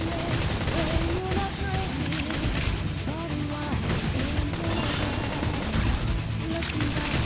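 Gunfire bursts rattle repeatedly through chaotic combat in the Xenoblade Chronicles X video game, mixed with clashing effects and intermittent battle voices.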